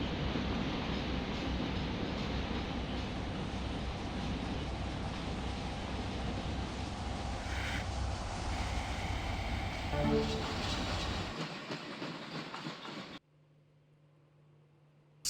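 A train running in the Trainz video game, a steady loud rolling rumble and hum heard in the interior view that continues for about eleven seconds, then cuts out, leaving a faint tone and near silence.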